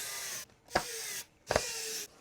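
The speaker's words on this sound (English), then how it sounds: "now we can go ahead and just screw in those 4 screws" Two short bursts of a small electric screwdriver driving screws into the plastic casing of a Barney Heart Glow toy, each whir lasting under a second, close and fairly quiet with near silence between.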